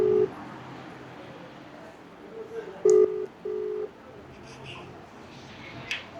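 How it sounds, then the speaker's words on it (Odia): Ringback tone of an outgoing phone call: a short steady beep at the start, then a louder double beep about halfway through, over a quiet room hum. "ରିଙ୍ଗ ହେଲା"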